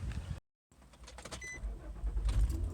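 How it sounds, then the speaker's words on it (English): A car is heard from the inside: a brief engine and window-motor whir, a short dropout of silence, then a steady low road rumble that builds as it drives along, with no talk. "I get in my car and I head for the park"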